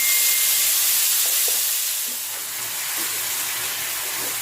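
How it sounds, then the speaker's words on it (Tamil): Paneer manchurian sautéing in a spoon of ghee, giving a loud, steady broadband hiss that eases slightly midway, with faint scattered crackles and no voices. "இந்த பன்னீர் மஞ்சூரியை இதில் போட்டு வதக்கலாம்."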